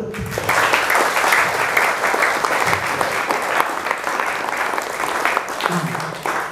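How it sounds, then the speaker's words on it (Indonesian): Loud, sustained applause from a large seminar audience fills the room, dense clapping continuing steadily for several seconds before tapering slightly at the end. "Jadi kita mulai dengan bertepuk tangan. Tepuk tangan dulu."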